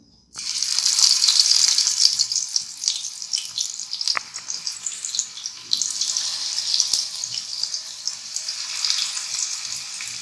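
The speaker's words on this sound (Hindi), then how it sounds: "अब हम इसमें ये कबाब फ्राई करते हैं।" Mirchi kebabs frying in hot oil in a frying pan, a close, continuous bright sizzle and crackle running for about ten seconds with a few sharper pops and no talking.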